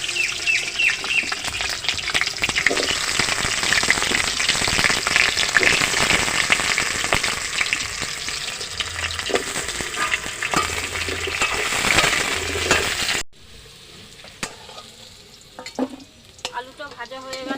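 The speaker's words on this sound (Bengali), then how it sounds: "কড়াইতে তেল দিয়ে দিলাম আলুটা ভাজবো" Potatoes frying in hot oil in a wok give a loud, steady, crackling sizzle that runs continuously with stirring noises, then drops abruptly to a much quieter, sparser sizzle near the end.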